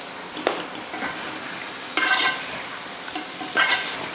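Fried chicken gets stirred into a sizzling tomato masala gravy, a steady low frying hiss broken by several scraping strokes of a spoon against the pan, close by.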